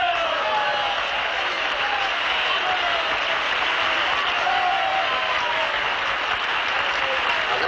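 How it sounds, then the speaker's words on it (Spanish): Steady, dense applause from an audience at a mock political speech, sustained throughout at an even level with a hint of crowd noise beneath. "Agradezco estos aplausos tan desnutridos, a la par que merecidos"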